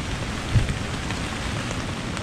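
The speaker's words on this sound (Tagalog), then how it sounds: "lakas ng hangin at ulan" Heavy rain and strong wind drum steadily on a camping tarp nearby, a dense constant patter with a faint low thump early on.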